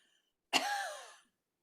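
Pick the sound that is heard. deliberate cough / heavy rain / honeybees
deliberate cough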